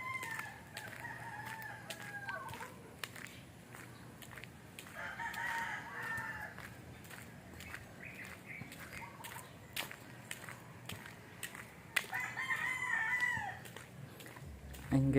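Roosters crow in the morning, several drawn-out cock-a-doodle-doos rising from a distance over a quiet outdoor backdrop, with occasional soft clucks between the calls.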